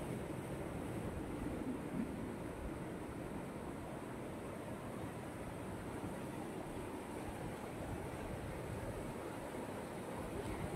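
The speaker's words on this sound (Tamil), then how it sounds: "இது தண்ணி சத்தம் எப்படி அழகாக கேட்கும்" Steady rushing water of a stream at Kaleekesam waterfall in Kanyakumari flows without pause, a broad even wash of sound at low volume, with no voices.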